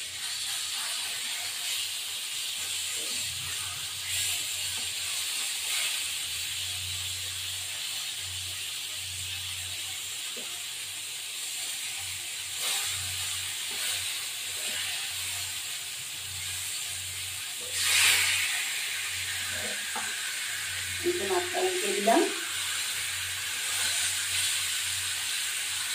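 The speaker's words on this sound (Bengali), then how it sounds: "এখন মাছটা ভাজা বসিয়েছি।" Rohu fish, washed and rubbed with lemon and salt, fries in hot oil in a pan with a steady, close sizzling hiss. A low hum sits underneath, with a brief clatter near the middle and a few knocks toward the end.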